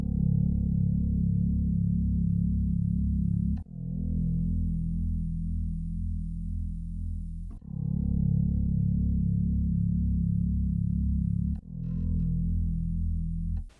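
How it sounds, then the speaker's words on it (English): An electric guitar runs through a Strymon Mobius compressor and auto swell, playing long sustained low chords that fade in smoothly, repeating in a steady cycle of swelling phrases with no talking. "the first sound was the compressor and the auto swell engine from the Strymon's Mobius, where I was again emulating that expression pedal"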